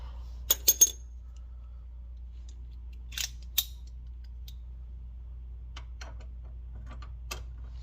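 A ratchet working a bolt on a car starter gives a few sharp, separate clicks near the start and middle, then scattered faint ticks over a steady low hum.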